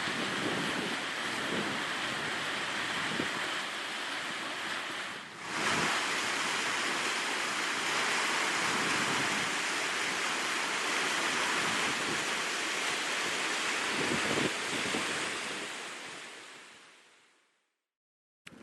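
Strong wind roars steadily at a Golden Circle site in Iceland, buffeting the microphone with a broad, constant rush and brief gusty surges before cutting out near the end.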